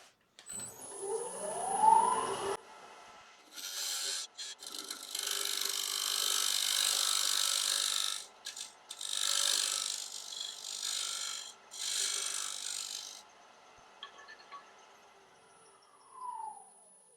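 An oak plate blank spins on a wood lathe while a tenon is cut into its base, giving several bursts of close, loud scraping and hissing tool contact separated by pauses and the whine of the lathe winding up and down.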